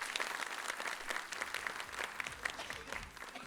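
Steady applause from an audience at a formal stage event celebrating women performers, many hands clapping together at an even density throughout, with no speech on top.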